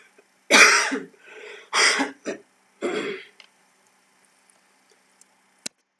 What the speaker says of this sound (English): I tried to choke on a pea earlier, that's why I'm coughing.